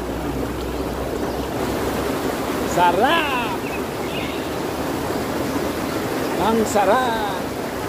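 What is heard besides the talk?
river water flowing while someone bathes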